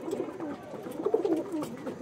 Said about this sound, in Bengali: পিওর নীলদমা পায়রা আছে দেখুন